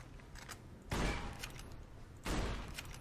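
Gunshots fired at a floating board in the game Fallout: New Vegas, two bursts of loud crackling gunfire about a second and a half apart, with quieter room noise between them.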